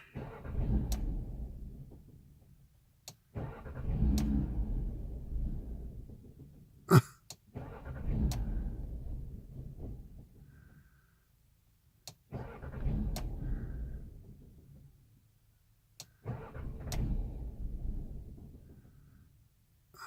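A car engine cranks repeatedly on its starter without catching, in five long grinding bursts separated by pauses and clicks. The engine seems to be getting no fuel, and the air is around 45 degrees.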